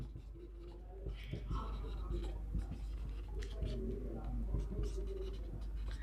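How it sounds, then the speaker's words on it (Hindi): Chalk or marker scratching on a board during a chemistry lesson on radical names, short strokes and taps in an irregular rhythm under a low steady room hum, with a teacher speaking over it. "देखो मैं लिख रहा हूं"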